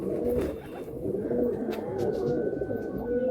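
Several Madrasi and Giribaz pigeons coo steadily in a loft, their soft rolling calls overlapping close by with no talk.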